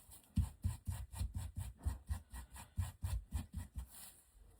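Scissors snip rhythmically through wet fabric wrapped on a decorative Dollar Tree cross, a quiet, close series of about a dozen evenly spaced rasping cuts.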